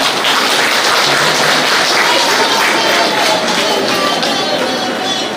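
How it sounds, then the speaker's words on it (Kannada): Loud, dense audience applause fills a stage programme at an Ashada Habba gathering as a guest is welcomed, a steady unbroken roar of many hands clapping at close range for the whole stretch. "ಜೋರಾದ ಚಪ್ಪಾಳೆ"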